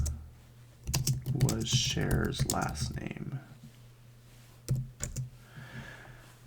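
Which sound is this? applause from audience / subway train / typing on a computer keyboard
typing on a computer keyboard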